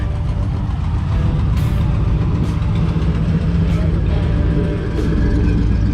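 A truck engine idles with a steady low rumble throughout at a truck show, with a few faint high beeps or squeaks over the continuous drone; voices are faintly present.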